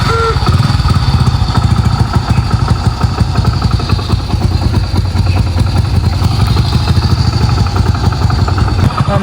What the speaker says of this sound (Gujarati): મસ્ત મજાના ગામમાં નીકળી ગયા આપણે બાઇક લઈને